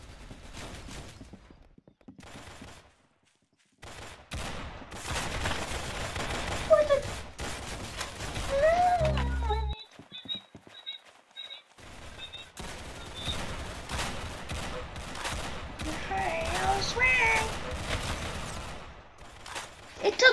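Gunfire in the Roblox-style shooter game Arsenal, with bursts of rapid shots and scattered single blasts over about twenty seconds, mixed with other game sounds and a voice talking at times.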